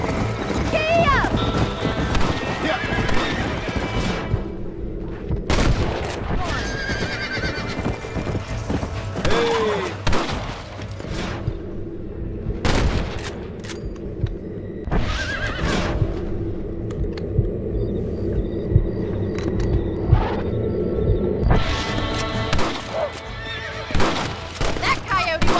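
Horse in the Red Dead Redemption game neighing and whinnying while galloping hooves clip-clop underneath, with music and gunfire-like booms around it and a voice calling out a few times over the ride.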